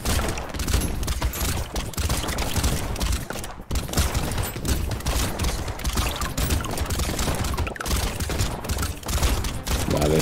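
Explosions and rapid gunfire from the video game Brotato pound almost without pause, dense and loud, with only brief dips in the barrage.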